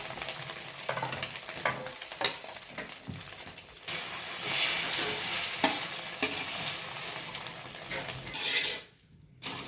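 An egg omelette fries in oil with a steady close sizzle, interrupted by scraping and stirring clinks of a utensil against the pan, ending in a brief drop to quiet.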